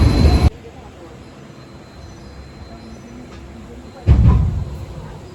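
A Konkan Railway passenger train runs along, its rumble and wheel squeal loud at the start, dropping to a low steady roll, then swelling again near the end.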